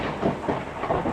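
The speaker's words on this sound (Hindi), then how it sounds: "कहीं पे बादल फटा है और आवाज़ आप सुन सकते हो, बारिश का माहौल है" Thunder rumbles during heavy monsoon rain, a low, diffuse roll mixed with steady rain noise, fairly faint and brief.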